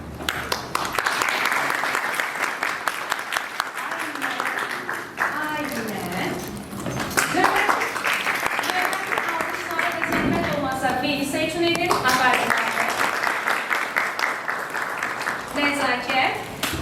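Sustained audience applause fills a school year-end report concert, a steady wash of many hands clapping that continues throughout, with a speaker's voice talking over it at points.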